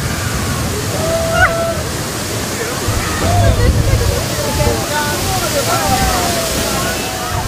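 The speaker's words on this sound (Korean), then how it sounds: "쏟아지는 물줄기를 맞으며 배는 폭포 바로 아래를 통과합니다" A boat passes directly beneath a waterfall in Argentina: a roaring torrent of falling water rushes loudly and steadily close by, with excited voices and shouts faintly heard through the spray.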